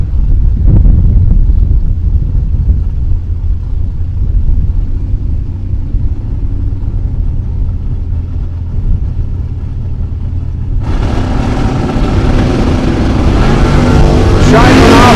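Drag racing cars, a 446 Mopar and a supercharged 302 5-liter Ford, rumble loudly at the line amid wind buffeting, then a sharp burst of engine roar erupts near the end as they launch.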